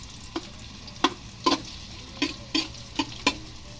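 Garlic sautés in a pan for chicken curry under a faint, steady sizzle, punctuated by a series of crisp, evenly spaced taps and scrapes of a spatula stirring.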